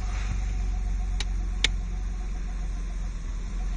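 A Nissan Skyline engine with its exhaust valve closed idles at a steady, fairly subdued low hum, with two brief clicks partway through.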